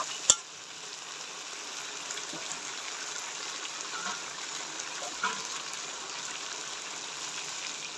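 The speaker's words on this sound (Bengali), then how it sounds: "এবার জল দিয়ে দেবো পরিমাণ মতো।" Water poured into a pan of sautéed chicken brings a sharp clack, then a steady, fairly quiet hissing sizzle and bubbling that runs on with small swells and no one speaking.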